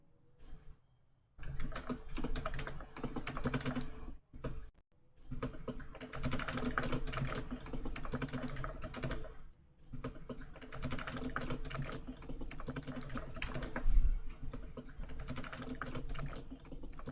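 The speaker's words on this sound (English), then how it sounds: "Damn, my keyboard is loud." A loud computer keyboard clattering in rapid, steady bursts of typing, with a few short pauses, close and alone without talk.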